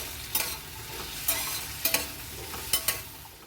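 Potatoes and garlic fry in a pan with a steady soft sizzle, punctuated by four or five paired spatula scrapes at regular intervals, close and moderately quiet, with no one speaking.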